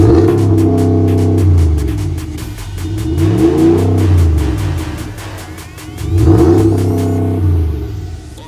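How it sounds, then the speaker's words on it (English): A vehicle fitted with a Rocky Ridge exhaust system revs loudly in repeated rising and falling surges, its deep engine rumble swelling three times over several seconds, close and alone with no talk. "And also we have the exhaust system from Rocky Ridge."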